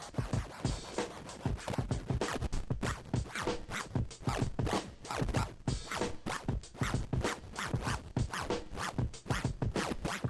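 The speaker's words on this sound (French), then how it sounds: "c'est une application qui va te faire faire du scratch sans avoir besoin de briser tous les disques" DJ scratching produced with the Baby Scratch app on a phone, no turntable: rapid, continuous back-and-forth scratch strokes in a dense rhythmic stream, loud and close, running steadily throughout with no talking.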